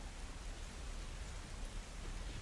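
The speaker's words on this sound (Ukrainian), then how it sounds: "І зараз почнеться легесенька музика дощу." Light, steady rain for a meditation, a continuous soft hiss of drops spread evenly across the whole stretch, with no voice and no thunder.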